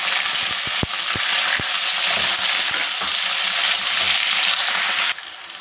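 Chopped onions hit hot oil with mustard seeds and dried red chillies, setting off a steady close sizzle with a few sharp crackles and pops early on before it quiets near the end.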